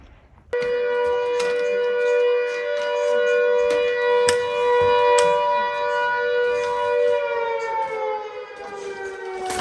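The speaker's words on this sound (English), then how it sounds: "the sirens going off" Civil defense sirens sound in Riverton, a loud, sustained wail that holds steady and then begins to fall in pitch, with faint clicks and background noise around it.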